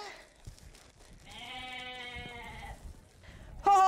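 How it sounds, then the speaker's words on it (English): Goats bleating on a farm, one long wavering bleat up close, then a sharper, louder bleat breaking in at the end, with quiet background sounds and no clear talk over it. "There's them goats and you're scared of them, aren't you?"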